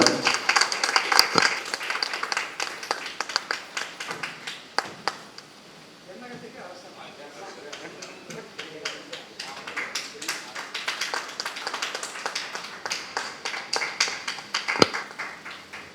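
Audience applause at a monthly astrology research meeting in Tamil Nadu as an honoured guest receives a ceremonial shawl; scattered clapping rises and falls across the stretch, mixed with a speaking voice and some quieter gaps.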